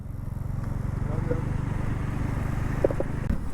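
Road traffic around a TVS NTORQ scooter riding in rain-wet conditions, a steady close engine drone with surrounding vehicle rumble and a couple of faint horn-like tones.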